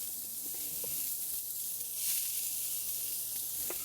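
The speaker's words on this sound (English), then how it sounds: "Now I'm going to add our onions and our garlic." Onions and garlic sizzling in olive oil over medium heat for risotto, a steady close hiss that holds evenly throughout, with faint utensil taps underneath.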